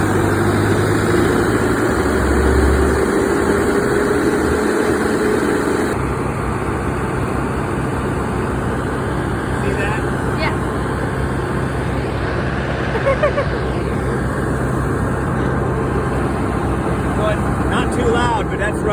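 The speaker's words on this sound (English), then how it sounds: "we run that tractor at full speed as long as there's a risk of frost" A tractor engine run at full speed to drive orchard frost protection for apple trees: a steady, loud, droning roar that holds unbroken throughout, with a voice talking over it early on.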